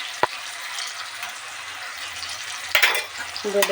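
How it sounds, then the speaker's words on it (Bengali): Ginger-garlic paste fries in a pan for chicken curry, a continuous moderate sizzle broken by a few sharp clicks and scrapes of stirring, with a louder burst of spatter near the end. "এবার এটাকে ভালোভাবে নাড়বো তার মধ্যে দিয়ে দেবো আদা রসুনের পেস্ট"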